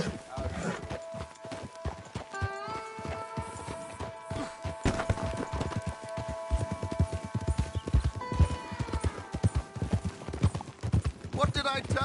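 Horse hooves clip-clop in a steady rhythm as a mount is ridden in Red Dead Redemption 2, close and fairly loud, with an occasional whinny and a voice talking over the ride.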